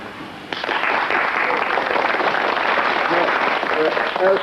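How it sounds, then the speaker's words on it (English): A concert audience claps on cue in a wave that sweeps across the rows, a dense continuous roar of applause that holds steady, with a voice faintly audible near the end. "The people in the front row will start clapping and stop as my hand goes across like that"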